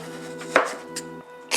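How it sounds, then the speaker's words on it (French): A kitchen knife cutting through a tough raw butternut squash, with a couple of sharp chopping strikes on a board and a short scrape, close and loud with no talk. "franchement j'en ai chié à couper du butternut les gars"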